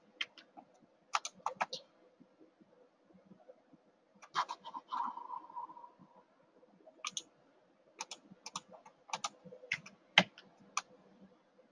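Quiet computer keyboard typing comes in short, irregular bursts of sharp clicks separated by brief pauses, close and otherwise silent.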